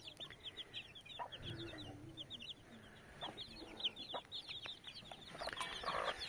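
Chickens cluck steadily while a rooster calls among them on a farm with Kuwaiti and other breed chickens, with chirping birds and farmyard bustle throughout.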